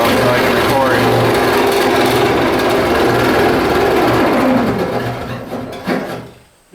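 A reciprocating saw runs during a tiny house build, giving a steady, loud mechanical buzz that drops off and winds down in the last couple of seconds.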